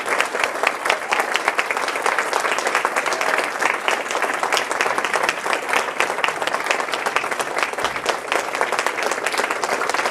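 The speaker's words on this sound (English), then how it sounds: "I would like all of you to raise and show your gratitude with clapping to your parents, your life partners, to the faculty and the university staff." Sustained audience applause fills a graduation ceremony hall, dense steady clapping from a large crowd at even loudness throughout.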